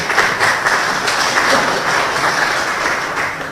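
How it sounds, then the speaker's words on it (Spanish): Audience applause at a workshop presentation on image and communications for a supreme court, a dense, steady wash of clapping from a full room, loud and sustained throughout with no talk over it. "Gracias por los efusivos aplausos"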